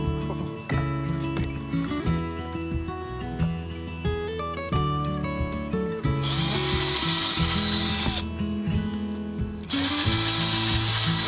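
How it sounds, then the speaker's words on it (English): A power drill boring pilot holes into wood in two long, loud whirring bursts, separated by a brief pause, over busier clattering background sound. "Always pre-drill your holes, people."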